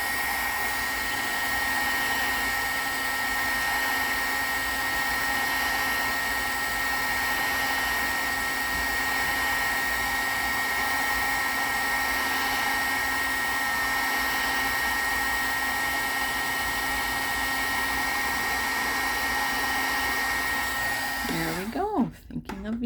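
A heat tool melting embossing powder blows a loud, steady fan whir with a high tonal whine for about twenty seconds, then cuts off abruptly near the end.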